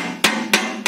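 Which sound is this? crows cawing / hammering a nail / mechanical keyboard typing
hammering a nail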